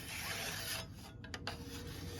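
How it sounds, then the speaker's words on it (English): A scraper edge is polished on a very smooth sharpening surface, giving a steady, close rasping rub that runs continuously, with a brief softer gap near the middle. "That's a rough filing surface, and then there's a very smooth one, so this is going to polish it."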